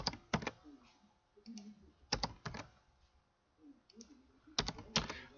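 Computer keyboard typing in several short, crisp bursts of clicking keys, close up and separated by quiet pauses, with no talking.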